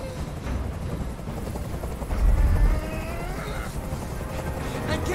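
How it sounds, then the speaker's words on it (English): A helicopter hovers in the video game Detroit: Become Human, its low rotor thrum steady and loud throughout, swelling briefly near the middle, with scattered faint game sounds layered above. "Tell that helicopter to get out of here."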